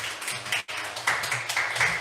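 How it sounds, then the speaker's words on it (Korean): A congregation at a church youth service applauds, giving brief, dense clapping that breaks off for a moment and then resumes at a fairly even level. "올라오실 때 큰 축복에 이렇게 박수 한번 쳐주시면 감사하겠습니다."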